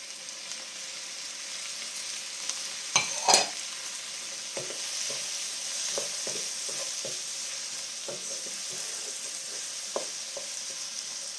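Onions and tomatoes for soya curry sauté in a pan with a soft, low frying hiss, punctuated by a cluster of utensil scrapes and a run of light taps and clicks.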